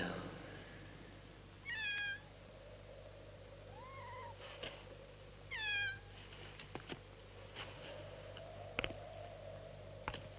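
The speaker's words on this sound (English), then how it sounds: "I told you I could hear a black cat." Two short cat meows a few seconds apart over a steady low hum, with scattered clicks and faint taps in a quiet room.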